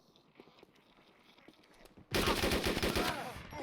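Gunfire in the DayZ zombie survival game: after a quieter stretch with a few soft taps, a sudden loud burst of rapid, closely spaced shots erupts and continues to the end, with a brief spoken word early on.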